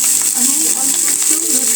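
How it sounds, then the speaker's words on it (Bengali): Chanda fish fries in a small amount of hot oil, a loud, close, even sizzle with faint clinking through the short stretch and no talk. "আমি এবার মাছটাকে ভালো করে ভেজে নিচ্ছি।"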